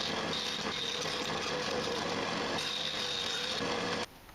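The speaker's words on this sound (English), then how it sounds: "I traced around the original riving knife and cut it out at the bandsaw." A bandsaw cuts through a scrap hardboard template in a steady, close whirring buzz with a grainy cutting texture, then drops abruptly to near silence at the end.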